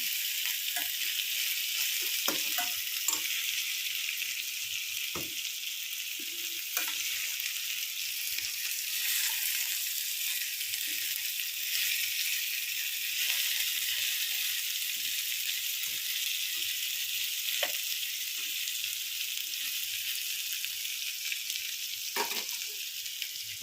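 Eggplant fries in a pan on low heat with a continuous, even sizzle, joined by occasional faint clinks and stirring sounds, and no talking.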